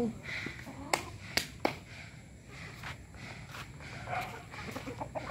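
Rhode Island and Texas chickens cluck softly on a rural farm. The faint calls are scattered among footsteps and a few sharp knocks, with quiet talking in the background.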